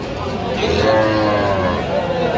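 A loud, close moo from young bulls and heifers rises and holds with a deep, drawn-out tone, set against a busy outdoor crowd hum at a Faridpur cattle market.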